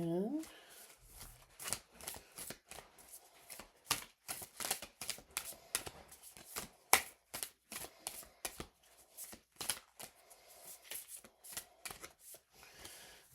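Healing Spirit oracle cards by Gordon Smith are shuffled by hand in a quick series of crisp, close riffling clicks and slaps with short pauses, while a voice speaks quietly at times.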